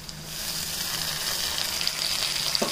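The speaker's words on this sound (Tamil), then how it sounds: "இந்த ஸ்டேஜில் நம்ம கட் பண்ணி வச்சு தக்காளி சேர்த்துக்கலாம்" Chopped tomatoes sautéing with softened onions in a pan for thakkali thokku, a steady moderate sizzle building slightly, with a brief clatter at the end.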